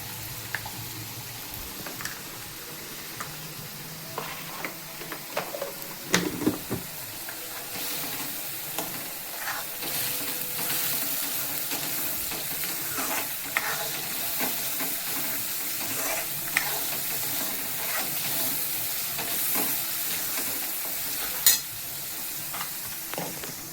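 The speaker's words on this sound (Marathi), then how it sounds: "मसाला तेलामध्ये आपण चांगल्या प्रकारे फ्राय करतो" Homemade black masala with a pinch of turmeric fries in oil for a Maharashtrian fish curry, making a steady sizzle and hiss close by. Scattered knocks and scrapes of stirring sound over it, and no voice is heard.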